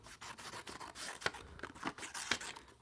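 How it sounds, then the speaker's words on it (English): Scissors cut away excess paper on a recycled binocular craft tube: a few quick, close snips amid soft paper rustling and rubbing, quiet overall. "so we're just going to cut off the extra"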